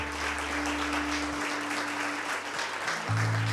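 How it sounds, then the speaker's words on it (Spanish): A church congregation applauds at the end of a prayer, a steady wash of many hands clapping at an even level throughout, with a low held organ or keyboard tone underneath. "Un aplauso para el Señor."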